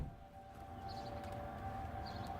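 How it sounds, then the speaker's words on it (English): A tornado siren in Flint, Michigan holds a steady, faint, distant wail over quiet outdoor ambience on a calm spring day. "Tornado sirens just went off."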